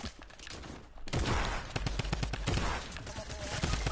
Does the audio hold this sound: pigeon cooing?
no